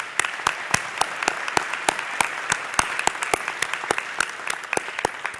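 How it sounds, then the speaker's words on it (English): Audience applause at a university forum on health awareness, a steady run of distinct claps from a moderate-sized crowd, fairly close and even throughout, with no talking. "Let's give Dr. Satcher another round of applause."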